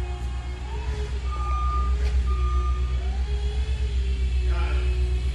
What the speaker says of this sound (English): trying to figure out how to work a forklift